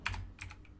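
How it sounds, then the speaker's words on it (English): Java code is typed on a computer keyboard in a few quick, close, quiet keystrokes. "Let's go ahead and type in another statement."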